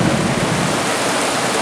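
Heavy rain and storm noise from a thunderstorm during a solo canoe trip, a loud, steady broadband roar close by throughout, with no talk.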